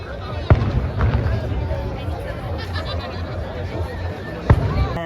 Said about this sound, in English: you hear the 12-gun salute